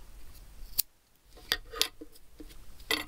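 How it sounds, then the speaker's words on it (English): Scissors snip through paracord ends in a few sharp, close metallic cuts spaced unevenly over a few seconds, with quiet handling between them. "So let's just snip these ends off"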